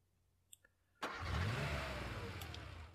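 A car engine in the video game Sega Rally Championship, two faint clicks and then an engine starting abruptly and revving up, holding a steady, fairly loud drone that eases slightly at the end.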